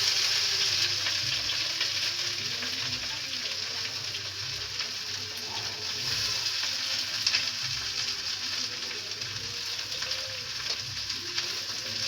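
Onions frying in a pan, a continuous hissing sizzle that holds steady throughout, fairly close, with faint occasional stirring movements and no clear talking.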